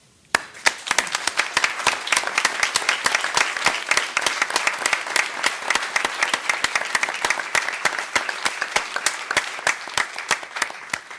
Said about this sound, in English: I would personally like to take this moment to give them a little round of applause.